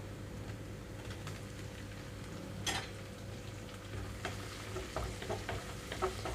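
Chopped tomatoes fry in ginger garlic paste in a pan, a soft steady sizzle with scattered stirring clicks and scrapes, fairly quiet and with no talking.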